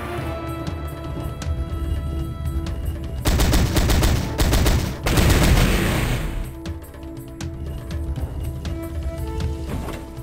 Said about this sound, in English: here is the M60, this game's SMG